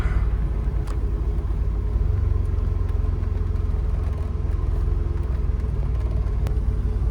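Steady idling rumble of a DeLorean with the air conditioning on max and two fans blowing cold on a hot day, a continuous low drone with a faint whirring layer and no talk.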